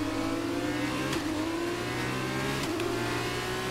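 A race car engine in the F1 22 game, during an F2 race in Bahrain, revs loudly and continuously with a high sustained whine and slight pitch shifts.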